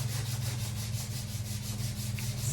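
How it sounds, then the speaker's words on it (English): Hand sanding rubs over the last bits of putty on wooden floorboards in steady, rhythmic back-and-forth strokes, close and continuous over a low background hum. "Just sanding the last bits of putty before we"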